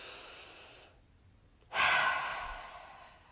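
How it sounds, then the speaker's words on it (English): Slow, deep breathing close to the mic: a long exhale tapers into a brief pause, followed by a sudden strong inhale or breath that gradually fades, with no talking. "Take 3 deep breaths."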